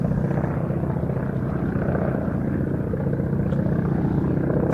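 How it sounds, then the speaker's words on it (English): A Hawker Fury vintage fighter flies past at an air display, its engine a steady, loud drone that holds constant throughout without voices. "And it was the later of the two aircraft, the Fury, that was leading them in there."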